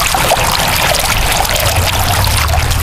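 Steady, loud rush of water falling from the plume of a spiral jar fountain, splashing continuously, a dense hiss with a low rumble underneath, close by and without pause.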